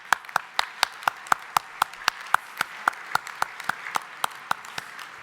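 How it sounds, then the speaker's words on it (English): Event sponsors at an economic summit receive applause: sparse, evenly spaced claps, about three or four a second, fairly close and moderately loud, with no talking. "So join me in giving them a round of applause."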